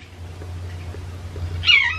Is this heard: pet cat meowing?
yes